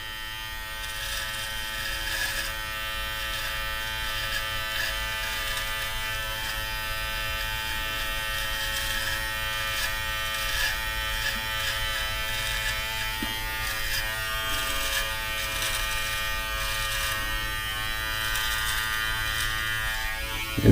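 A Brio Beardscape Pro electric trimmer cuts through a beard with a constant close-up buzz. The motor hum stays steady for about twenty seconds.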